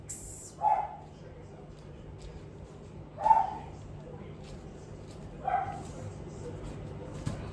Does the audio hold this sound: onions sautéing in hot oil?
no